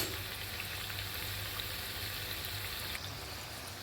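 Anjaneya vada, a pepper vada, frying in oil over a low flame, giving a soft, steady bubbling sizzle that stays faint and even throughout.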